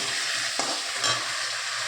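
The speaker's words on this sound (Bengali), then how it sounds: "আলু ভেজে মশলা কষাচ্ছে আলুর সাথে" A constant hiss of potatoes frying with spices in a home kitchen, broken by a brief spoon scrape or two, close and unbroken throughout.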